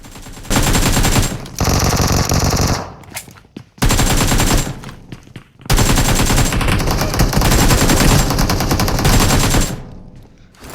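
Bursts of AK rifle fire in the BGMI battle-royale game, loud and close, in sustained rapid volleys separated by short pauses, with no talk.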